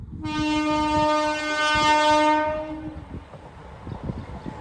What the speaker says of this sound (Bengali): এখন আসছে দেখো ট্রেনটা